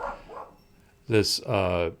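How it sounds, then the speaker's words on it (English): A dog barks twice in quick succession nearby, sharp and loud, after a brief bit of indoor talk during a tabletop gaming session. "sorry about the dog"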